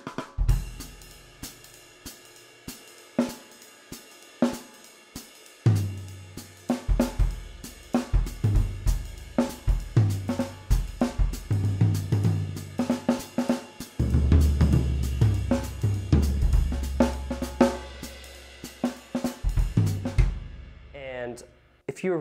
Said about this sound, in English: You can mix that up by moving your left hand around to the toms, orchestrating it around in different ways